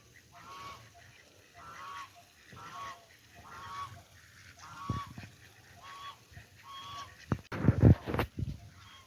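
A series of evenly spaced nasal honking calls from waterfowl, moderately near, followed by a louder rustle and bump toward the end.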